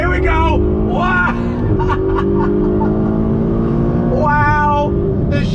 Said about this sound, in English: 2019 Ferrari GTC4 Lusso T, and we are ready for a little bit of on-throttle action.